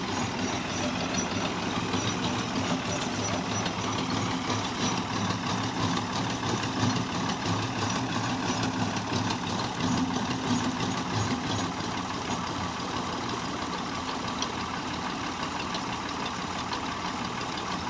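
Fiat 480 tractor engine idling steadily with a slightly raised throttle, a continuous close diesel rumble with a faint knocking texture, no talk over it, while a water pump is being run.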